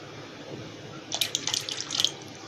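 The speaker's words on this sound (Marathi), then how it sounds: "लागेल तसं पाणी टाकायचं आपल्याला, आणखी जरा हे घट्टच वाटतंय, आपण थोडंसं आणखी पाणी टाकूया।" A short splash of water poured into a thick rice flour batter, close and brief, over a quiet background.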